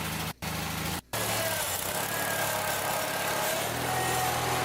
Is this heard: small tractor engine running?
yes